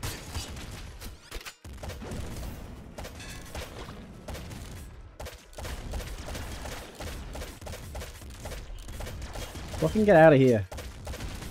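An auto spear launcher fires in the game Nuclear Throne, a dense run of clattering weapon shots under game noise, with a man swearing over it and a louder burst of impacts near the end.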